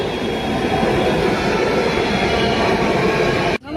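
A metro train rumbles loudly and continuously nearby as it pulls into the station, a dense roar of wheels and motors that cuts off abruptly at the end.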